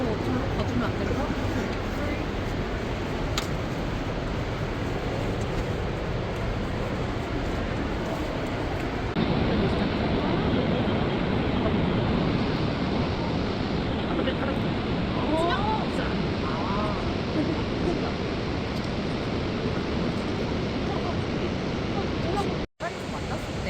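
Powerful river water rushing through Tiger Leaping Gorge, a steady loud roar of turbulent flow filling the whole clip with no break.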